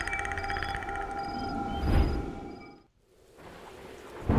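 A pre-monsoon summer thunderstorm with heavy rain and thunder, a dense, loud wash of rainfall with a rumbling swell near the middle, then a brief lull before the downpour picks up again.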